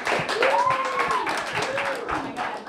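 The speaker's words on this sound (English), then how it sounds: "Everybody give her a great round of applause." An audience claps through a round of applause at an open music session, with a sung or whistled tone and voices rising over the clapping.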